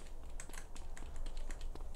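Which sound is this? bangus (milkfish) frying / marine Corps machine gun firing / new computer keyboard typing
new computer keyboard typing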